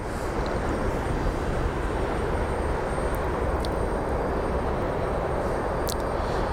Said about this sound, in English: The inbound flight is the NetJets Phenom out of Youngstown